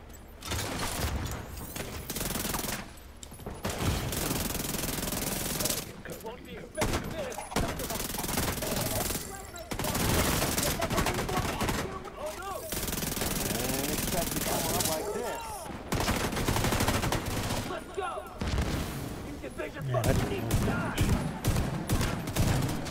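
Sustained automatic gunfire in The Division 2, dense overlapping bursts and volleys that run almost continuously and loudly, briefly pausing between flurries, with players talking over the shooting.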